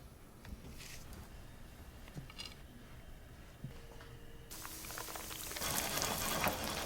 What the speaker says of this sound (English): Avocado oil goes in.